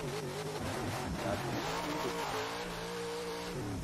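Car in Forza Horizon 4 maneuvering into a parking spot during a drift parking contest, a quiet engine revving and shifting pitch with faint tire squeal, no talk.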